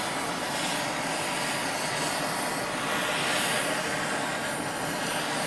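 A torch flame roars steadily as it heats the metal end of a Woods Powr vacuum suction cup, a broad, even hiss holding at constant loudness with no speech.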